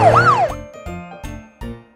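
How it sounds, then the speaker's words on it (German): Cartoon police car siren in a children's transport show, a bright sweeping wail rising and falling once, followed by three short bouncy tonal blips, loud and close with no talking. "das ist ein Polizeiauto"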